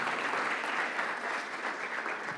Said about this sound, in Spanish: Le damos un aplauso a Freddy.